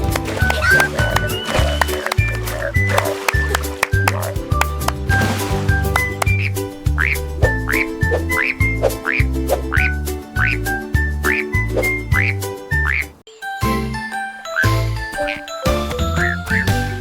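Frog croaks are mixed into a bouncy French nursery rhyme for children, sounding as repeated short croaks over tinkling bells, bass and a steady rhythmic beat, loud and continuous throughout.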